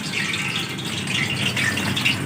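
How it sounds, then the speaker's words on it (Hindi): Light rain falls during a power cut while pakoras are fried outdoors, a soft continuous patter and hiss with small rattling drips, close and steady. "हल्की हल्की बरसात हो रही है, देखिए मेरे ऊपर पानी भी गिर रहा है ऊपर से।"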